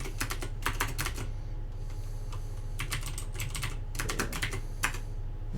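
Rapid bursts of clacking keystrokes on a computer keyboard while entering Python code, coming in irregular clusters with short pauses between them, close and clear over a low steady hum.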